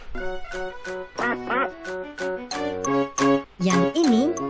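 A cartoon duck in a toddler animal-naming game gives a run of bright, repeated quacks over cheerful game music and jingles, with a voice naming animals in Indonesian.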